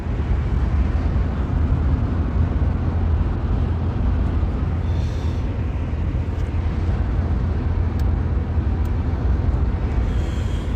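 Steady, loud broadband rumble of a car travelling along a road, heard from inside the cabin, with continuous road and engine noise and no talk.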